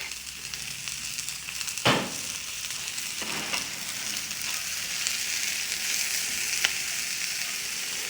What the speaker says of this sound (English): But salt helps the onions caramelize.